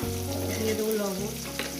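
Potatoes and onions, with salt, fry in a pan for a fish curry, giving a steady close sizzle with some tonal background sound running throughout.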